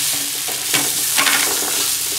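Onions and tomatoes fry in a pan for a kabab chicken biryani masala, giving a steady close sizzle with scraping stirs and no voices.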